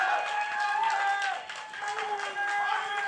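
Broad applause and crowd noise fill an esports arena after a 3-0 win in a League of Legends semifinal, steady and fairly loud, with a voice speaking over it.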